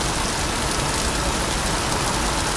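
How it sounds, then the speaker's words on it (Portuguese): Heavy rain pours steadily on Avenida Paulista, a dense unbroken hiss of downpour with faint traffic rumble beneath and no voices. "Paulista, chovendo pra caralho."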